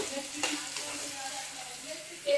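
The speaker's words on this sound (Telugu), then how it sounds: "ఆలూ ఫ్రై చేస్తా ఉంది" Potatoes for aloo fry sizzle and crackle steadily in a pan on a home stove, with a few scraping stirs and a faint voice in the background.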